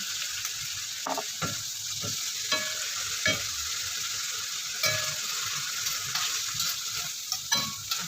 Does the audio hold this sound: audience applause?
no